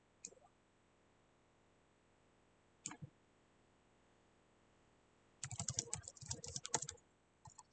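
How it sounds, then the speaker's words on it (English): Bursts of typing on a computer keyboard: a brief tap near the start, a short cluster around three seconds, then a rapid run of clicky keystrokes from about five and a half seconds on, fairly close in a quiet room with no talk. "typing and talking is difficult to do at the same time"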